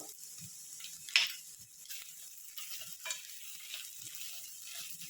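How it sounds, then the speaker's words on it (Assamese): Vegetables frying and being stirred in a pan over a low flame for a Kolkata-style vegetable chop filling, a soft steady sizzle with occasional scraping stir noises, close and fairly quiet, no talking. "এইখিনি প্ৰায় 5-6 মিনিটমান সময় এইদৰে কম জুইত ভাজি থাকিব লাগিব।"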